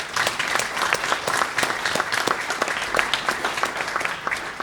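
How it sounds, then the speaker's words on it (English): Audience applause at the HBCF 2019 introduction, a steady dense patter of many hands clapping together for the whole stretch, fairly loud and even, with no voices over it. "Yeah, let's clap."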